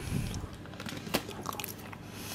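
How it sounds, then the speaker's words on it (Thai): Naem, Thai fermented pork sausage, being bitten and chewed up close, with soft moist crunches and a sharper bite snap midway. "มากินแหนมกัน"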